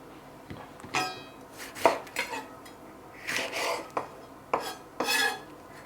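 Stir fry ingredients for an Asian-style pork dish, chilli among them, being cut with a knife on a board: irregular, fairly close chops and taps with small clatters, some strokes quick together, others spaced apart.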